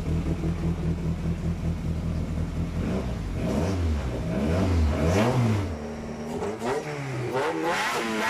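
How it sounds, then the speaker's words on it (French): A prototype vehicle's engine runs close by, idling before being revved repeatedly, the pitch climbing and falling in several loud sweeps and then settling back down. "Voilà, le moteur a déjà démarré."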